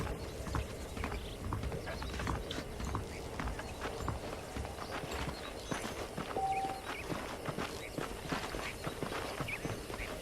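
Horses walking with steady clip-clopping hooves in the Red Dead Redemption video game, a continuous rhythmic patter up close under ambient game sound.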